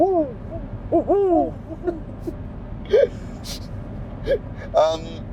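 A person's voice imitates owl hoots, repeated short rising-falling calls with gasping breaths between them, over a low rumbling background.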